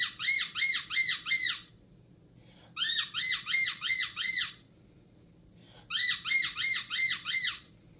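An MCO squirrel call, a reed call worked with a bellows, imitates a young squirrel's distress squeal in three loud bursts of about five sharp, rapid squeals each, separated by short pauses.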